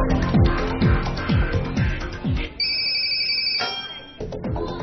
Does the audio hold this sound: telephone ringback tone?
yes